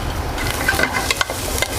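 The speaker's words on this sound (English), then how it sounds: "Right now we're just going to cook off our vegetables. Just the onion and the celery." Chopped onion and celery sauté in a hot pan for hamburger stew, giving a close, steady crackling sizzle with a few scraping stirs and small pops, and no talking.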